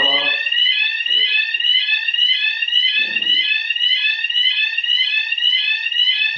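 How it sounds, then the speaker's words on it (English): Building fire alarm sounding continuously, a loud pulsing electronic tone holding steady throughout, with brief bits of a voice underneath near the start and middle. "it's a fire alarm."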